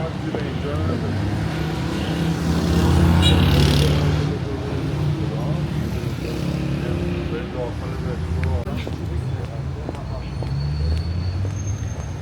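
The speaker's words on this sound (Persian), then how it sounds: "هنوزم ترافیکه میدونی؟" Steady rumble of heavy night-time street traffic in Tehran, with engines droning and vehicles passing close by, continuous throughout with a louder swell early on.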